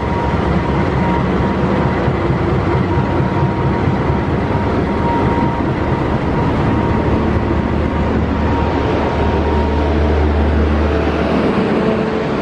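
A train hauled by a double locomotive passes close by at night, a loud continuous rumble with a steady engine drone and rolling wheel noise throughout.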